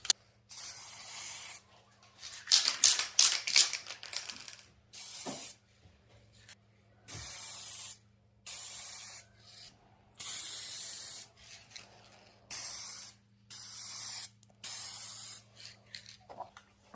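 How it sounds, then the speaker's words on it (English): A spray can lays down thin coats of gloss lacquer in a run of short, even hissing bursts separated by brief pauses, close and fairly loud, with a longer rattling stretch early on. "Just one spray over each area, leave that to dry."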